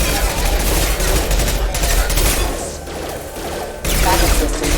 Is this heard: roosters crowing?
no